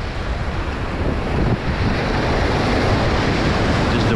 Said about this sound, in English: Oh, big wave coming over.